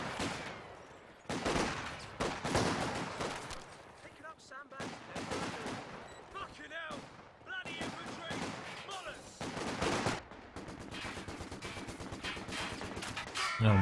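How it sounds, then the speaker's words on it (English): Vickers machine gun fire in Company of Heroes 2, a 2v2 match, with repeated bursts of gunfire and explosions layered over a busy battlefield soundscape and game effects throughout. "the Vickers is shooting all the way over there"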